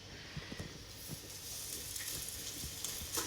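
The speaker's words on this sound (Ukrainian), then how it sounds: "сковорідка розігрілася, і Настя обережно кладе" Soft sizzling and spitting of cheese pancakes (syrnyky) frying in a hot pan, quiet and continuous with faint small pops.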